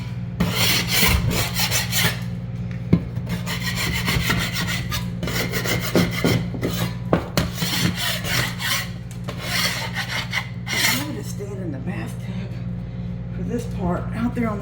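Old stain being scraped off wood outdoors, heard as repeated rasping scrape strokes in uneven bursts, close and fairly loud, with a person talking at times.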